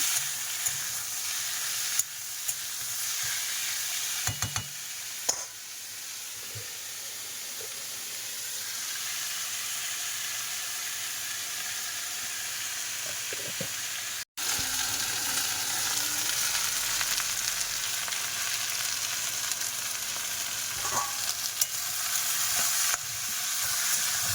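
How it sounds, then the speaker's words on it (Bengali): Cut potatoes sizzling and crackling in hot oil for a long stretch, with occasional scraping of a spatula stirring the pan up close. "আলু ভাজা হচ্ছে।"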